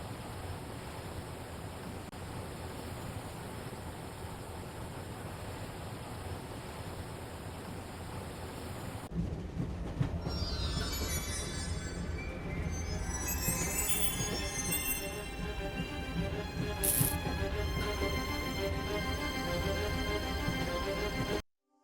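A train rolls along in the video game Broken Sword Reforged, a steady, loud rumbling wash that turns brighter and more clattering partway through, with metallic squeals and tones riding over the constant roar; no one speaks.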